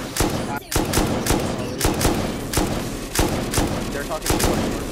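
Gunfire in the modded survival game Rust, a rapid string of sharp, loud shots repeating at a steady rhythm, with voices talking over it.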